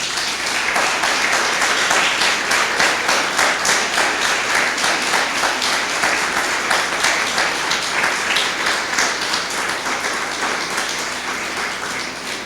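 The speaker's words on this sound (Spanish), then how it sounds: "Dale un aplauso al Señor." A church congregation applauds together for about twelve seconds, dense steady clapping that fills the room and fades only slightly toward the end.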